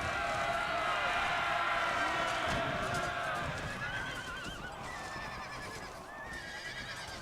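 Horses whinny and squeal amid a cavalry melee battle in Empire: Total War, several wavering neighs overlapping above a dense rumble of hooves and fighting noise, loud and continuous throughout.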